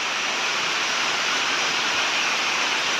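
A clear river flowing steadily, a dense unbroken rush of water close by with no talking.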